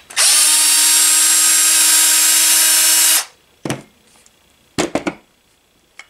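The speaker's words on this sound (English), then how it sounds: "Undo the cylinder from the bottom, 4 screws." A cordless power driver whirs steadily for about three seconds while undoing the cylinder screws on a STIHL HS-80 hedge trimmer, followed by a few close clicks and clatters of small parts.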